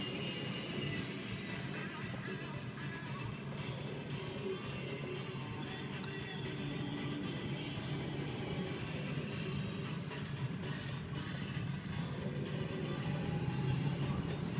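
A 2004 Kia Spectra four-cylinder car on a test drive, with steady interior road and engine noise droning continuously at a moderate level throughout.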